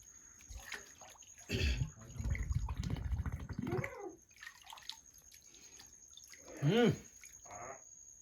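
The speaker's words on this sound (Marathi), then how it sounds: "आता दुसरी बॉटल आम्ही भरून घेतोय." A bottle filling with water at a mountain spring during a fort trek, an irregular liquid gurgle with drips and a brief rising glug, under faint talk and a steady high background whine.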